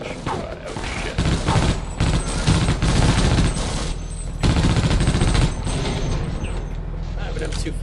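M240 machine gun fire in the HL: Insecure shooter game, loud rapid bursts of automatic shots with mechanical clatter repeating over several seconds, a player talking faintly underneath.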